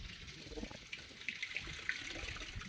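Water runs through a village stream channel near a waterfall, a faint continuous trickling and gurgling with small splashy bursts, close by and without any voices.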